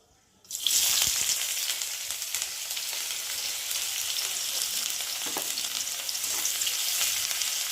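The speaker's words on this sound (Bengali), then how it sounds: "পেঁয়াজটা একটু ভালো করে ভেজে নেবো" Loud, continuous crackling sizzle as onions hit hot oil and fry in a pan with dried red chillies, starting abruptly and staying steady throughout.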